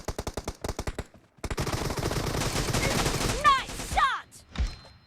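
Gunfire in PUBG Mobile: a string of sharp single shots, then after a brief pause a dense sustained burst of automatic fire with ricochet-like whines near the end, loud and close.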